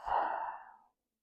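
A single deep breath drawn in and slowly released during a morning yoga stretch, close and soft, tapering to silence after about a second.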